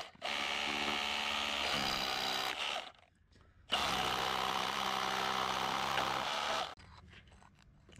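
Hammer drill boring into a concrete block wall in two sustained bursts of harsh, loud, close-up grinding and rattling, separated by a short pause and ending with a quieter whir as the bit winds down.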